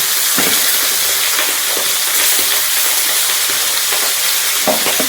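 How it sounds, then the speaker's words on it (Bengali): Pieces of pangas fish fry in a pan during Bengali home cooking, giving a steady loud sizzle and hiss with occasional soft pops and stirring clicks throughout. "সব মাছগুলো ধরে মাছগুলো ভেজে নিই"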